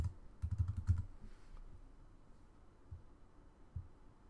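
Brief flurry of typing on a computer keyboard, a quick cluster of soft key clicks near the start, then quiet hum with a couple of faint taps.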